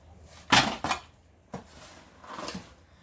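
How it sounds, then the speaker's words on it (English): Shovel scraping and dumping compost-mixed dirt into a plant pot while potting a banana plant sucker, four separate scoops and thuds spaced irregularly, close and fairly crisp with no talking. "We're going to start shoveling the dirt into the pot."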